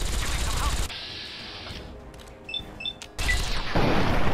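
Plasma rifle fire during a chaotic firefight in a Fallout-style video game: loud crackling bursts of shots, a quieter stretch with faint electronic beeps, then another loud barrage.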